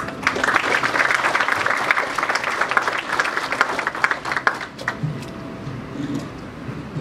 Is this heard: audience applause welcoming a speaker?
yes